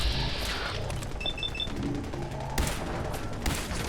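Gunfire in the video game Fallout 4, a burst of rapid shots with sharp cracks and some clattering impacts, loud and close, with game effects chiming briefly in the background.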